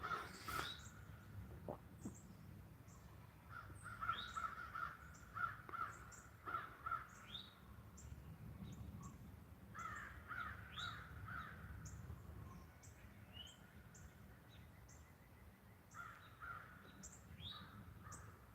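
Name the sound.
crows cawing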